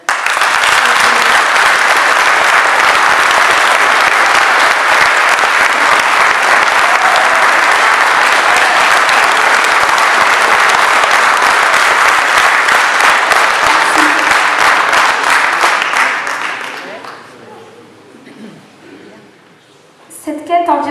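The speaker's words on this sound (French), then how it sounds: "Je vous demande de l'applaudir." Loud, dense audience applause at a public meeting for municipal elections fills the room for about seventeen seconds, then fades out into quiet murmuring and a voice resuming.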